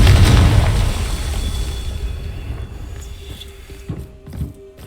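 Repeated Confringo fire-spell blasts in Hogwarts Legacy: a heavy booming burst at the start rolls into a rumbling decay, then a few smaller pops and thuds follow near the end.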